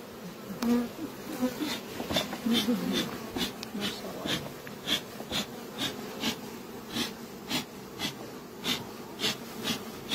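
Honey bees buzz steadily close by, with a dense humming drone and repeated soft pulsing sounds running throughout.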